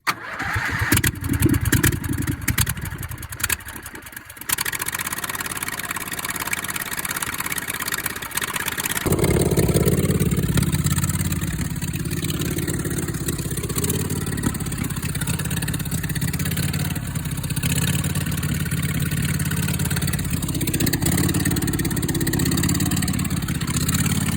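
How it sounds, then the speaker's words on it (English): A Poleman mud mower engine is cold started on choke, cranking and catching within a few seconds, then settling into a loud, steady idle up close. "Here's the cold start video. Choke."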